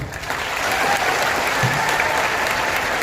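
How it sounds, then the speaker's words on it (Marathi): A youth audience at a student career guidance gathering in Nanded bursts into sustained, dense applause. The many hands clap steadily and close for the whole stretch. "एकदा टाळ्या वाजवा विचार मंचासाठी"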